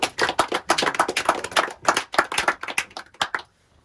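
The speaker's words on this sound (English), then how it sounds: "So give yourself a hand." A small group of trip participants clapping for themselves after a Great Lakes trip, a few seconds of lively, uneven clapping that stops abruptly.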